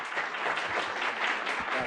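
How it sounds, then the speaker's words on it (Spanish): An audience at a film masterclass applauds steadily throughout, a dense, sustained wash of clapping from many hands in a hall. "Un aplauso, por favor, para Alejandro."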